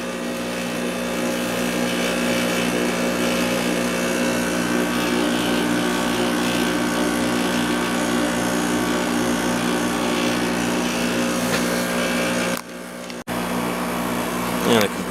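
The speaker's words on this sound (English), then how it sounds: "And the compressor is quieted down a little bit." A 2014 GE 8100 BTU window air conditioner, made by Gree, runs with a steady droning compressor hum and fan rush, loud and continuous, dropping out briefly near the end before picking back up.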